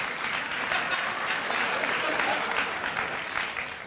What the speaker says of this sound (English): I'm sorry if my clapping looks insincere.